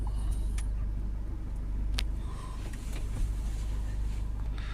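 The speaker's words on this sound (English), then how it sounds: "Okay, start the vehicle, allow it to run." A Citroen Relay 2.0 diesel van idling after being started, a steady low engine rumble running close by with a few faint clicks and knocks over it.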